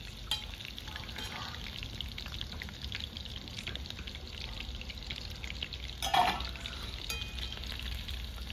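Chicken 65 pieces frying in hot oil in a village kitchen, a steady close sizzle and crackle with a brief louder burst of spattering partway through.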